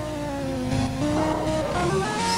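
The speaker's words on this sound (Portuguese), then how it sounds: "Ainda o carro ainda está na primeira." Formula 1 car engine in the game F1 2002, held in first gear after leaving the pits, whining loudly and steadily with its pitch climbing and dipping slightly.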